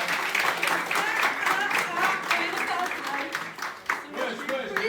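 Audience applause at a pageant elimination show, a dense, steady wash of clapping lasting the whole stretch, with voices calling out over it and a brief dip near the end.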